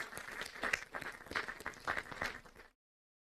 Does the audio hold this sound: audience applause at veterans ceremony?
yes